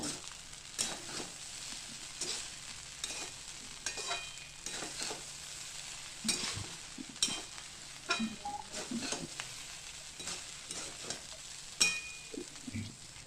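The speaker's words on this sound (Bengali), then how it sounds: "আবারও নেড়ে চেড়ে ভালো করে ভাতটা মিশিয়ে দিতে হবে" Rice being stirred and mixed in a pan for lemon rice, with soft scraping and stirring strokes repeating irregularly at low level, a faint sizzle underneath, no voices.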